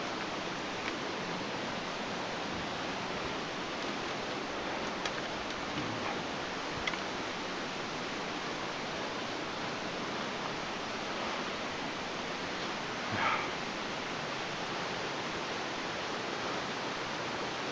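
Leura Falls waterfall pours in a steady, even rush of white-noise roar, heard from nearby and unbroken, with no talking.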